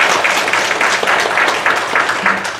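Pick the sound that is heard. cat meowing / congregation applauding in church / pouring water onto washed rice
congregation applauding in church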